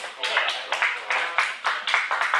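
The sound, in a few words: audience clapping at a comedy show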